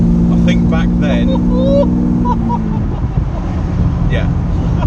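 A Mercedes-Benz 600SL with a large engine and loud exhaust runs with a deep, steady droning rumble, heard close with voices talking over it.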